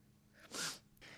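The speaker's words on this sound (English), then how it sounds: "I'm going to sneeze," A single close, sharp sneeze bursts out after a brief intake of breath, followed by a short breathy exhale in a quiet room.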